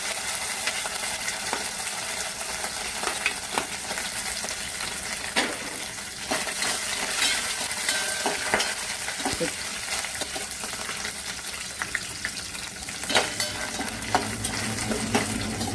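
Food fries in about three tablespoons of hot oil in a pan, a close, steady sizzle and crackle with occasional sharp clinks of a utensil against the pan.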